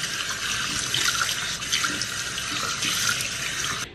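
Water runs steadily from a bathroom tap while makeup is washed off the face, a loud, close, continuous splashing rush with no talking.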